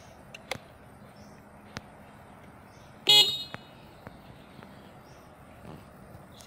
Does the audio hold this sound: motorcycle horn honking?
yes